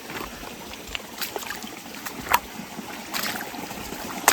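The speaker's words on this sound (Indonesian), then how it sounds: "Nah ini nih ada suara air tuh" A mountain stream of cold water on a muddy trail on Gunung Pakuan flows with a faint, steady trickle and babble under light rustling, fairly quiet and with no talk.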